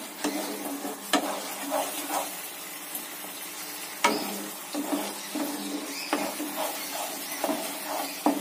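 Spiced tilapia masala, cooked sweet-sour-spicy, is stirred in a kadai: a steady frying sizzle with repeated scraping and clacking strokes of the spoon, close and alone.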